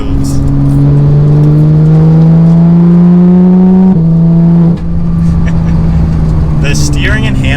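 Porsche 911 GT3 naturally aspirated six-cylinder engine accelerating, a loud rising drone climbing in pitch before a gear change, then pulling again, heard close with strong harmonic whine.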